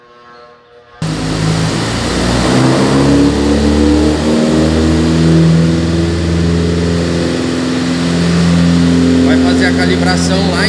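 A VW Gol GTS with a forged, naturally aspirated ex-turbo engine starts up abruptly and revs loudly and steadily on a tuning session, a close, sustained engine drone holding near constant pitch for several seconds.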